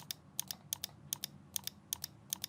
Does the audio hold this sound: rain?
no